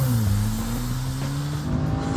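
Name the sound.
VW Golf 7R launching with wheel spin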